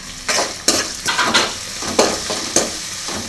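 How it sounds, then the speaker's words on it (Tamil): Green chillies, curry leaves and coriander sautéing in a pan: steady sizzle of frying with repeated scraping stirs of a spatula against metal, close and fairly loud, no voices. "பச்சை மிளகாய், கருவேப்பிலை, கொத்தமல்லி தழை, போட்டு நல்லா வதக்கி விட்டுட்டு"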